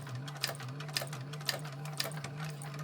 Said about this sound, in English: And then you can go ahead and back stitch again where the wristlet strap is.